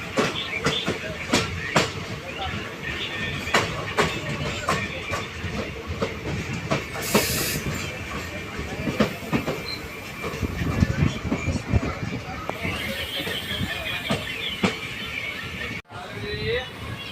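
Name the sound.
train departing Vadal station, Dhola to Veraval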